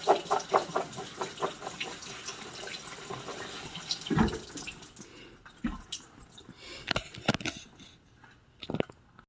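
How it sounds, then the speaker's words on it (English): Cooked chickpeas are drained in a sink, a splashing, gurgling pour for the first few seconds, then scattered drips and small clatters. "right now he's draining the chickpeas."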